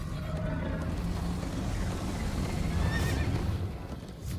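A horse whinnies over steady hoofbeats and a busy, noisy Minecraft Story Mode soundscape, the neigh clear and fairly close.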